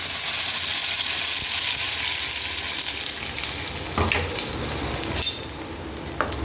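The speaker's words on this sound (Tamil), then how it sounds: "இதோட பச்சை ஸ்மெல் போகிற அளவுக்கு நல்லா வதக்கி எடுத்துக்கலாம் கொஞ்சம் நேரம்." Ground masala paste sautéing in hot oil in a kadai, a steady close sizzle with occasional scraping clinks of a spoon against the pan.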